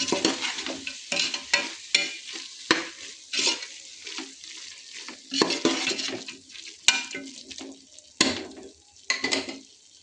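Vegetable pulao mixture stirred in a pan with a utensil, scraping and clanking in uneven bursts over a soft sizzle, close and fairly loud, with sharp clicks of metal against the pan.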